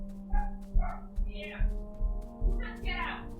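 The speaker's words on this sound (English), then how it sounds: "Sitting in the window and barking at passerbys." A pet dog sitting at a house window barks and yips in short repeated bursts at passersby, fairly close, with a low steady hum behind it.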